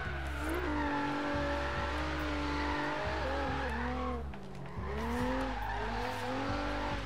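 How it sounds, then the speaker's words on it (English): An Infiniti G37 with a street-style build in the Forza Horizon 3 racing game, its engine revving hard and popping with backfires between shifts, with tires squealing and no one speaking. "this thing is backfiring like crazy"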